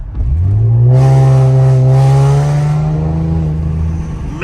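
An Infiniti Q50 with a VR30 engine, MBRP exhaust and blow-off valves accelerates loudly and close by, a deep, steady exhaust drone climbing gradually in pitch for several seconds before easing off.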